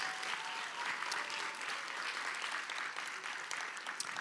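An audience applauds two Christian academies at a school competition, a fairly faint but sustained, even wash of many hands clapping with no talk over it.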